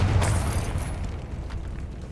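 A Confringo spell explodes in the Hogwarts Legacy video game on PS5 with a deep, rumbling blast that swells at the start and then rolls on as a sustained low roar across the whole clip.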